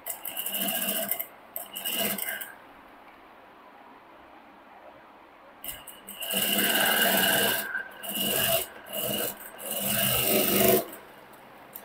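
A sewing machine stitches blouse front panels in quick bursts, its needle rattling loud and close, then stopping for a few seconds before several more runs of rapid stitching.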